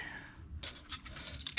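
Keys, including a car key, jingling and clinking as they are handled in a camping setup, a few quick bright metallic rattles close by after a quiet moment.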